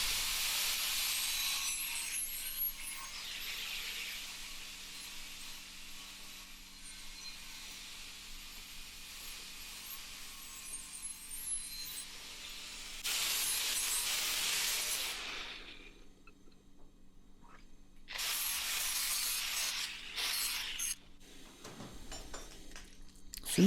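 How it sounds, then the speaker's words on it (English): Angle grinder working the top edge of a metal digging tool held in a vise, a loud sustained hissing grind that breaks off briefly and then resumes in a shorter burst. "I'm just going to take it over to the vise and do the top with the angle grinder"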